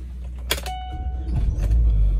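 A 2008 Chevrolet Vivant being started: a short whirring crank and clatter, then the engine catching into a low, steady idle rumble, close up with no talk.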